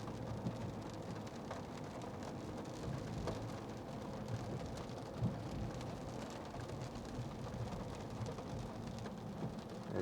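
Heavy rain pours steadily in a thunderstorm with lightning around, a dense continuous wash with a soft low rumble of thunder briefly swelling near the middle, heard from outdoors near a roadside.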